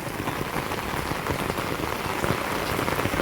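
Heavy rain pouring down over farm fields, a dense, steady hiss of drops striking surfaces, close and continuous with no voices.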